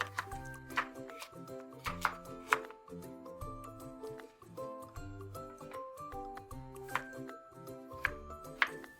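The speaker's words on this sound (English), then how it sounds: "Cut a green onion, ginger, and garlic." Knife chopping green onion, ginger and garlic on a board: steady, fairly quiet cutting taps in an irregular rhythm, with a few sharper clinks mixed in.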